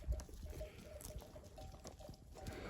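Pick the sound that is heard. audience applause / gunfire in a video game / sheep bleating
sheep bleating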